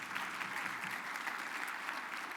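Applause for sponsors at a business legislative summit keynote: a short stretch of continuous clapping from a large audience, even and sustained, heard fairly faintly.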